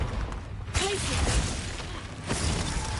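A Glacius ice spell is cast in a wizarding video game, a sharp shattering burst with a swishing crack near the start, then a second icy crash a moment later over dense battle noise.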